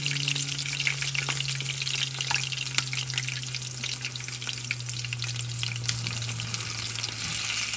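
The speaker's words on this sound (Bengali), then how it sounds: "ক্রিস্পি ভাজা হচ্ছে।" Fish fries crispy in hot oil at a street food stall, a loud continuous crackling sizzle with occasional pops and a low hum underneath.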